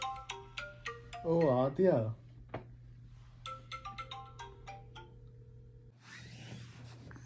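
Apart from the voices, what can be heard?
phone ringtone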